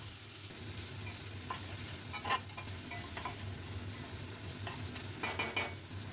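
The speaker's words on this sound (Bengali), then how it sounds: "খুব ভালো করে এই চিকেনের পিসগুলো ভেজে নেব।" Finely chopped chicken pieces fry in a pan for chicken corn rice, a quiet, steady sizzle broken by a few sharper stirring scrapes.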